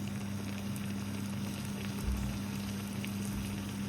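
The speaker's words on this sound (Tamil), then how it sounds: "நான் அப்படியே பொரிக்க போகிறேன்" Steady, dense crackling hiss of chicken patties deep-frying in hot oil, continuous and close, over a low electrical hum.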